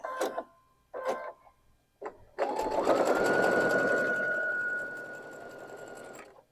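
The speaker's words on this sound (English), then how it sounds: "once my machine has started sewing on something, then it can go through those bulkier seams a lot easier" A home sewing machine stitches quilt block pieces laid right sides together: a few short bursts of stitching, then a steady, humming run of rapid needle strokes lasting several seconds before stopping, close and clear with no talk.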